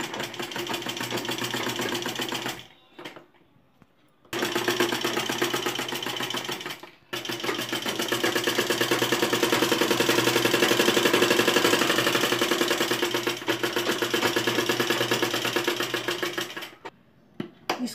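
A sewing machine stitches along the edge of a collar neckline beside buckram stiffening, a close, steady motor hum with brief stops between long continuous runs and no talk over it.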